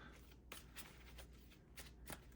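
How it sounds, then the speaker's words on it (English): A deck of cards from the Harry Potter Hogwarts Battle board game being shuffled, quiet rapid riffling bursts repeating a few times close up. "Give it a couple shuffles."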